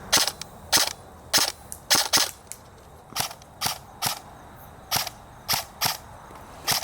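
An airsoft gun fires during a night game: about fourteen sharp snapping shots in irregular quick pairs and singles, loud and close, over low outdoor background hiss.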